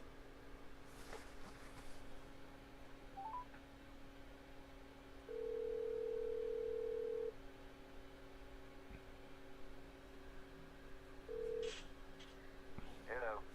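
A phone call being placed, with two long steady ringback tones, the second cut shorter, heard over a constant electrical hum and faint background noise, with a few small clicks.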